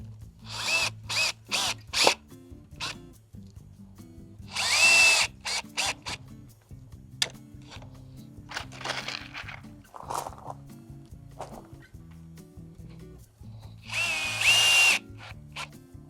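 A handheld power drill whirs in repeated quick bursts, some very brief and two longer runs, during a DIY project fitting shade cloth over a vegetable bed. It sounds close, with a faint steady hum in the gaps.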